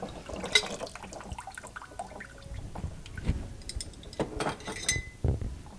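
Glass wide-mouth quart jars are lifted out of hot soaking water, with splashing, dripping and light clinks of glass against glass, close by and moderately quiet in a kitchen.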